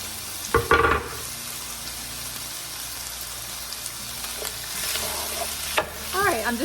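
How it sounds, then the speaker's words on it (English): Sausage and vegetables frying in a pan sizzle steadily while a utensil stirs them, with a few clattering scrapes against the pan, close and fairly quiet. "I'm just gonna give that a stir."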